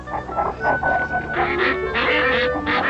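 Several ducks quack in quick, overlapping bursts, nearby and fairly loud, with a low background hum.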